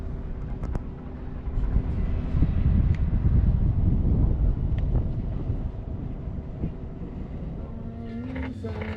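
Steady wind of about 6 knots roars and buffets the microphone outdoors on a sailing boat, a continuous rushing noise with occasional faint knocks in the background.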